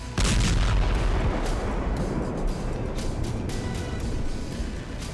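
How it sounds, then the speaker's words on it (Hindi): Heavy rumbling booms and blasts from bombs, missiles and gunfire in a war zone run continuously with dense crackling, as a multistory building collapses, filling the whole stretch loudly, with no talking. "बम धमाके से भरभरा कर ढहती बहुमंजिला इमारत"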